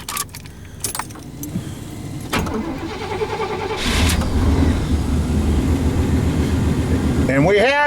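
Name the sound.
2004 Chevrolet Impala engine cold start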